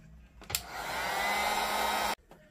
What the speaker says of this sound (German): So, ich föhne das mal eben einmal über.